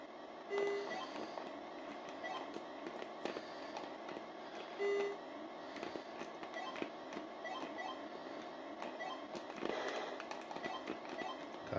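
Rapid bursts of electronic gunfire from an Atari 2600 game play on a maintained console with an AV mod, repeating in quick crackling volleys with occasional short tonal beeps, faint and steady throughout.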